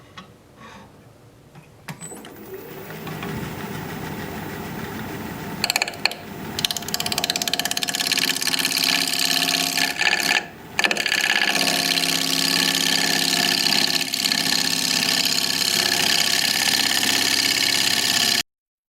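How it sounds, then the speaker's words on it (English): A wood lathe spins a pink dogwood winged bowl while a chisel cuts in, a steady loud rattling, grinding whir with a brief break midway, close up and without talk. "So I'm just laying my chisel on its side, just entering the point to cut this off."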